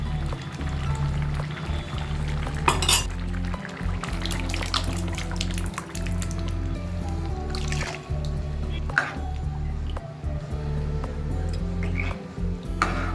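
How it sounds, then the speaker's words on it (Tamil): Cooked dal water poured into a pot of simmering sambar, a steady liquid pour and splash with scattered drips over a constant low stove hum, close and moderately loud. "இப்போ நம்ம இதெல்லாம் வேக வச்ச பருப்பு ஜலத்தை சேர்த்துடலாம்."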